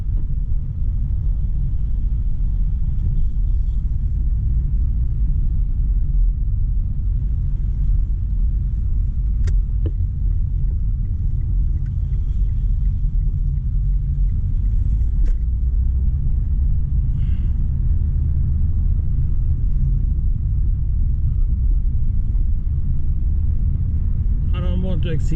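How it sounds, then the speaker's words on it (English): A manual car drives along in second gear, a steady low engine and road rumble inside the cabin, with a few faint clicks and knocks over the drone. "This is a manual drive, so it'll be hard to change gear and steer and everything at once"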